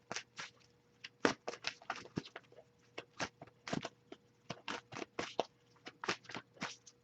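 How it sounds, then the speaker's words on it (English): A deck of tarot cards is shuffled by hand: a rapid, uneven run of close crisp riffling and slapping bursts, repeating steadily for several seconds with no talk. "so I'll give it a few more shuffles"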